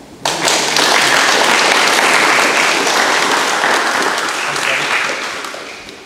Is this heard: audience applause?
yes